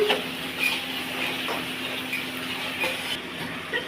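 Ginger, cumin and chilli pastes with black cumin seeds fry in hot white oil for a Bengali dhoka dish, giving a steady, moderately loud crackling sizzle with small pops, no voices.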